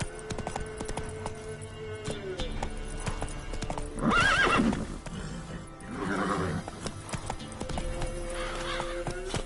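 Horse hooves clop steadily in The Witcher 3, with a loud whinny near the middle and a second, softer neigh shortly after, over ongoing game ambience.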